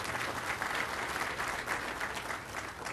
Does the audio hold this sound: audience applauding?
yes